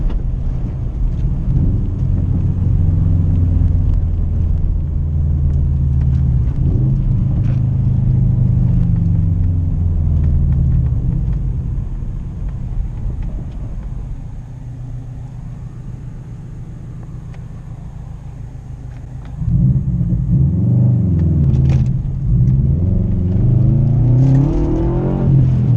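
A 2013 Subaru WRX drives on a snowy road, its engine rumbling and revving close by with deep low growl, easing off midway before surging back with a strong rising rev near the end.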